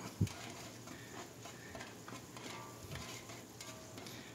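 Beef and onions being sautéed in a pan, with a faint continuous sizzle and soft scraping strokes of stirring, one sharper knock near the start.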